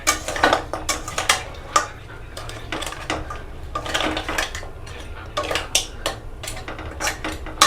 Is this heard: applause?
no